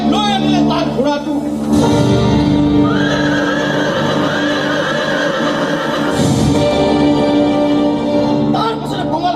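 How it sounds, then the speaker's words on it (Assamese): A warhorse on a stage battlefield in a live theatre production whinnies loudly, with a long neigh rising and falling over a dense music and sound-effect backdrop. "সি চেকুৰাই লৈ আনিলে তাৰ ঘোঁৰাটো"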